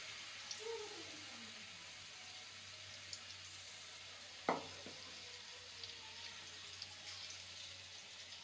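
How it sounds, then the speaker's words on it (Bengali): Besan sweets fry in a pan with a faint, steady sizzle and a single sharp clink partway through, all quiet and close. "এবার এগুলোকে লাল করে ভেজে নেব।"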